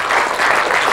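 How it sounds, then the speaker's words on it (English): Dense, loud audience applause from a large crowd at a live comedy show, continuous and close throughout. "The noise you hear is the applause of everyone else grateful they weren't chosen."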